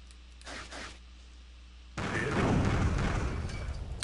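Explosions in a boss fight in the video game Megaman Zero: a sudden loud broadband blast of rumbling, crackling detonations kicks in midway and sustains to the end, after a quieter stretch with faint game sounds.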